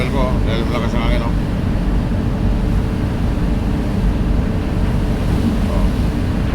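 Strong wind roars steadily against the microphone on a ferry deck, loud and constant, with engine and water noise underneath and a brief voice near the start.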